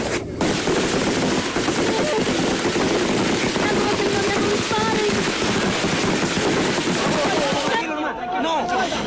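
Rapid bursts of gunfire crackle continuously amid chaotic noise and shouting voices in the Bagua jungle, loud and close.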